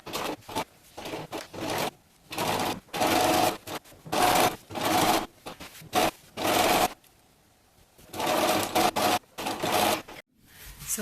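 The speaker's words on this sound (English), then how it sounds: "now I'm going to sew the seam through here and finish the raw edges" A sewing machine stitches a seam on a witch costume in repeated bursts of fast mechanical whirring, separated by short pauses, close and clear with no speech.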